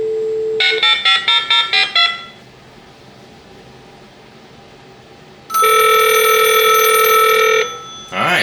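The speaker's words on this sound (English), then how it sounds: "It's ringing this phone." A telephone rings during an operational test of a Viking E-1600A emergency phone, first in a quick burst of electronic trills, then after a pause a longer sustained ring, loud and close.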